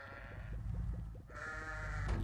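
A sheep in the video game Crossy Road bleats in a wavering, nasal call, followed by a second higher bleat, heard clearly over a low rumbling background.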